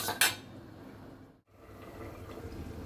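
Lid set onto a pot of simmering drumstick, potato and moong dal bora curry, a bright metallic clink at the start followed by a low, steady bubbling hiss.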